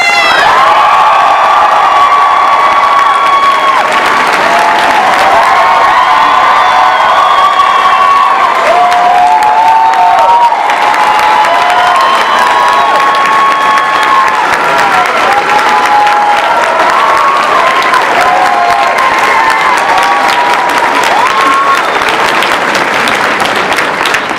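A large convention audience at ReGeneration Who 2018 cheers, whoops and applauds loudly to welcome Peter Capaldi, a continuous roar of clapping and shrill screams that stays at full strength throughout.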